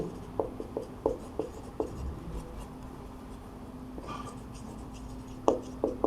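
Pen or chalk scratching out a maths solution in short, separate strokes and taps, steady and close, with quiet pauses between bursts of writing and no voice over it.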